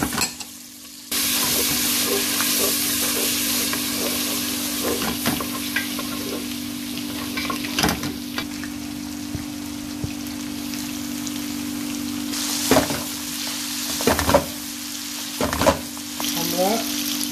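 Ginger, garlic, onion and chili fry in olive oil with a steady, close sizzle. Occasional sharp clatters of stirring break through now and then, and no one speaks.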